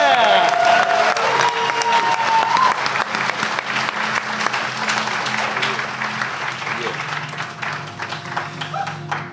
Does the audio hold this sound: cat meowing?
no